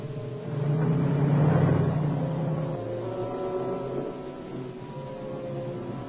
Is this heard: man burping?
no